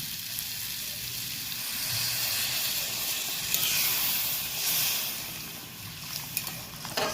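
Water poured into a hot pan of masala paneer curry gives a faint, steady sizzle and steamy hiss, with a few small pops and crackles toward the end.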